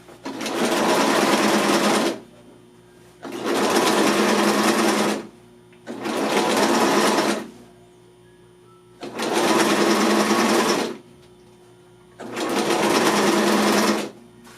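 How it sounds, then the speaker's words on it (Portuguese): A sewing machine stitches fabric with a backstitch, running in five steady bursts of about two seconds each, separated by short pauses, close and loud with no talking. "Aí eu posiciono aqui, dou o retrocesso, ó, vai ficar uma costura bem feita"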